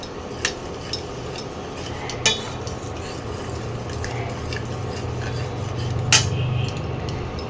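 A spoon stirs a yogurt mixture in a cooking pot over lowered heat while making shahi echor, a jackfruit curry, giving soft steady scraping with a few sharper clinks against the pot.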